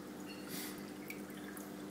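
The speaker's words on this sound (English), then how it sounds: "This pipe here is coming from the sump, so water is coming back up from down below back into the tank." Water splashes and trickles as it returns from a sump pipe into an aquarium tank, a soft continuous bubbling flow with brief louder gurgles over a low pump hum.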